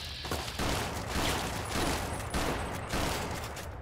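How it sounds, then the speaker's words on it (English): In Fallout: New Vegas, a shotgun fires in rapid succession, a dense run of loud, close blasts with brief gaps between volleys. "this shotgun fires really fast"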